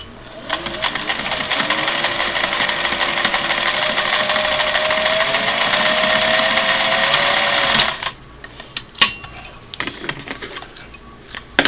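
A Singer Model 404 sewing machine stitching at its biggest stitch length, running loud and steady with a rapid mechanical whir for several seconds, switching forward and reverse mid-run, then stopping into scattered clicks and handling noises.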